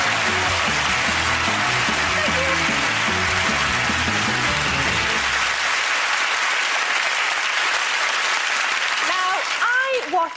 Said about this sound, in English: Ladies and gentlemen, big round of applause for Sarah Beeny.